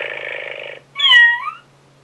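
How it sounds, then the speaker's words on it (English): A FurReal Friends Daisy toy kitty gives a short electronic purr followed by a single synthetic meow, both close and clear with a quiet gap between them. "meow and purr for us."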